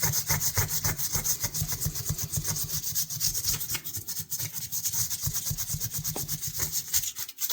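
Steady back-and-forth rubbing of 600-grit abrasive on the steel blade of a vintage Colonial pocket knife, a close, continuous rasping rhythm with no talking.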